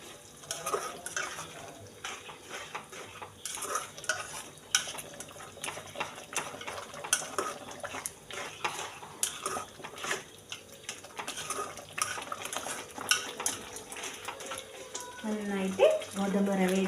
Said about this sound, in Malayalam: എന്നിട്ട് ഗോതമ്പ് റവ നന്നായിട്ട് ഇളക്കി കൊടുക്കും.